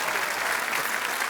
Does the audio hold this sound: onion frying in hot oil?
no